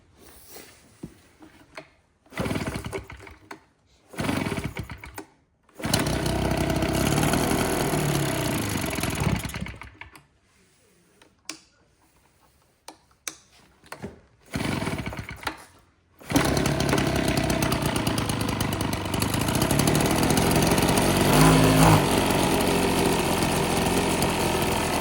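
A Husqvarna 130BT leaf blower with an aftermarket carburetor sputters through several short bursts, falls silent, catches again, then settles into a loud, steady, close-up run that holds to the end.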